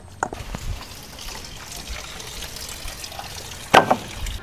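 Raw beef pieces being washed in water give soft sloshing and trickling with a splashy burst near the end, close by, with no talking.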